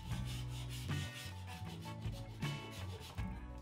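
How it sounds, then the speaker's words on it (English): A hand file rasps back and forth over a Leatherman tool's surface, each stroke giving a separate scraping rub in an even rhythm, close and quiet with no talk. "Now I am going to work in a surface with file to make it more accurate"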